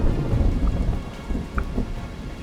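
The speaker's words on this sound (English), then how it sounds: "Just out of nowhere, this thunderstorm decided to open up on us." Heavy rain pours steadily with deep rolling thunder rumbling through it during a mountain hike in Rocky Mountain National Park, dense and close from start to finish.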